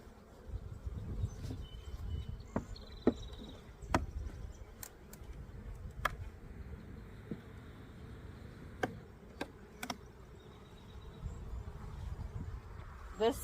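Honey bees hum and buzz around an open hive during an April inspection, a low steady drone under occasional sharp clicks and knocks of handling, with a voice speaking faintly at times.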